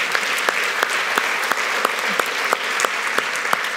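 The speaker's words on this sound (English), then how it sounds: "So I applaud you, and thank you for letting me be part of this community." Applause from a conference audience at a DevOps summit closing session in London, a steady dense wash of clapping with a few sharper individual claps popping out, loud and close, with no talking.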